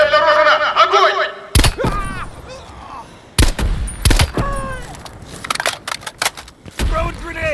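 Bursts of gunfire ring out in a Call of Duty: Black Ops Cold War battle, loud sharp volleys in several clusters separated by short gaps, with shouted voices in between.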